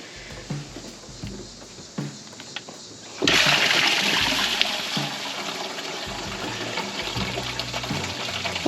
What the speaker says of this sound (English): the radiator's draining in the bucket nicely